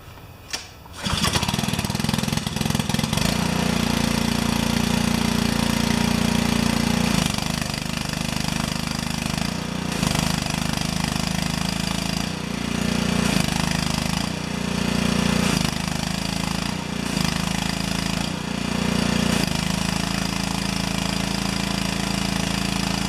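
A pressure washer's newly fitted engine runs loud and steady in cold weather, a continuous close-up drone with slight shifts in pitch after the initial start-up.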